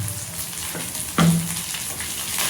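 Garlic and green chillies frying in oil in a pan for Marathi-style methi bhaji, a steady close sizzle with a sharper spitting burst as they hit the hot oil.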